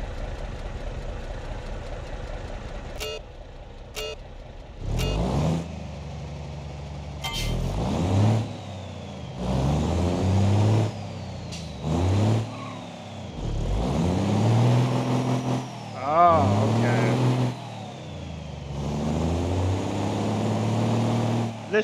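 Truck engine labouring up a hill in BeamNG.drive with an automatic gearbox, revving in repeated surges that rise and fall between gear changes, with some talking over parts of it.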